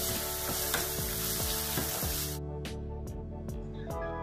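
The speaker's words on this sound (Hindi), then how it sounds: "ऑनियन को तब तक हमें फ्राई करनी है जब तक ये गोल्डन ब्राउन ना हो जाए।" Chopped onion with fennel seeds fries in canola oil, a loud steady sizzle with a spoon scraping the pan at a regular stroke every half second or so, the hiss thinning out after a couple of seconds.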